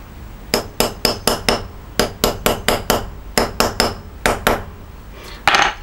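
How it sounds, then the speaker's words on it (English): Hammer blows into a workshop wall during the mounting of an anglepoise lamp, loud sharp strikes in quick bursts of four to six, with short pauses between groups, then a brief scrape. "Okay, there's my hammer."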